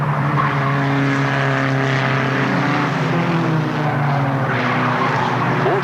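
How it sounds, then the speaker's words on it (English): A race car spinning out on the city bend at Alwalton Raceway in 1983, loud tyre skid and a steady roaring engine close by, with other racing engines droning underneath throughout. "Spins himself out on the city bend, right next to 903."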